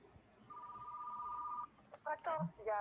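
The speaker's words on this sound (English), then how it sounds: "I have a phone call." A phone rings in Retro Rewind, a 1990s video rental store simulator, with one long electronic ring tone followed by shorter broken tones and clicks at moderate level.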